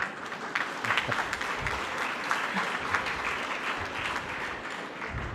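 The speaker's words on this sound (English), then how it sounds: "You should clap." An audience at a college graduation ceremony applauds in a sustained, even wash of clapping that stays fairly faint and distant from start to finish, with no speech.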